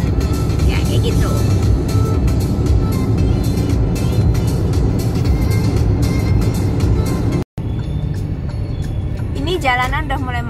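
Dense road traffic in Russia rumbles steadily nearby, with engines and passing vehicles heard continuously under a voice talking throughout.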